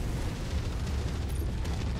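An AC-20 autocannon in MechWarrior 5 lets off a heavy, low-end blast, with booming, rumbling reports and mechanical clatter filling the whole stretch and no talk over it.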